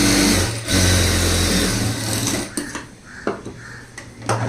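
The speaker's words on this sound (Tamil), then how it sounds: "லைனிங் கிளாத்தை ரைட் சைடு திருப்பிட்டு மேல் தையல் போட்டுக்கலாம்." A sewing machine stitches blouse lining cloth with a loud, close, steady mechanical whir that runs for a couple of seconds, then stops and gives way to a few scattered clicks and handling noises.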